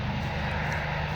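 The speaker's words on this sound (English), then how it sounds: "There was an airplane over there." A fixed-wing propeller airplane drones steadily overhead, a continuous low engine rumble of moderate, even loudness with no talk over it.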